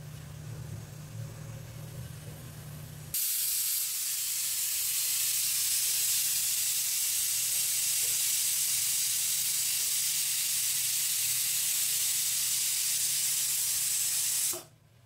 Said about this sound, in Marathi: हा वाफेवर ठेवणार आहे, म्हणजे आपल्याला गरम पाणी टाकलं ना तर चिकन मटन कसं चांगलं शिजतं.